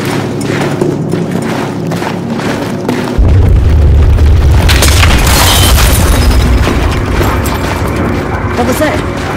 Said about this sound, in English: Someone needs to tell EOD to blow those ammo dumps further away.